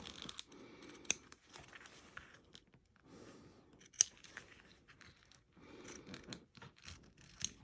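Scissors snipping material held taut in an embroidery hoop, a few quiet, separate cuts with sharp clicks of the blades between soft rustling, close and faint.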